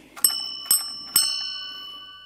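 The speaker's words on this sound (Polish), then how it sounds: "Sygnaturka, czyli takie raz, dwa, trzy, cztery dzwoneczki." A church sanctus bell, the small sygnaturka in a Lublin church, strikes three clear metallic rings in a steady rhythm, each ringing out and decaying gently in a quiet, reverberant space.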